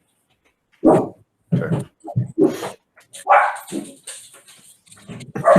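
A dog barks in the background during an online membership meeting, in several separate bursts of loud barks and yips with short gaps between them, and one brief spoken word.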